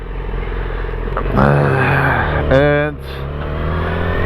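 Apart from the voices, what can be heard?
2006 Yamaha motorcycle being ridden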